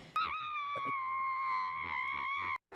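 A person gives a single long, sustained, high-pitched scream, muffled into a pillow, steady and fairly loud for over two seconds before cutting off abruptly into silence, with a short burst after.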